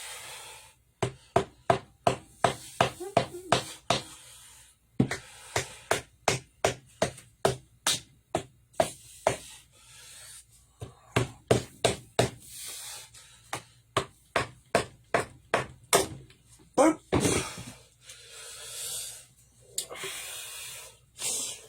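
Sharp tapping and chiseling on a cast stone piece being freed from its mold, a long run of crisp, evenly spaced strikes in bursts with brief pauses, close and fairly loud.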